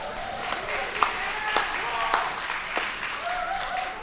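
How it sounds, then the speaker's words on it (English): Applause from an audience at a televised vocal competition show, moderately loud with scattered distinct claps standing out over a steady wash of clapping. "One more round of applause, please, for PNG Air."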